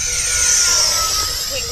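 An E-flite F-14 RC jet with twin 40mm ducted fans flies at full throttle, giving a loud, continuous high-pitched whine that slowly shifts in pitch as it passes; a person talks over it.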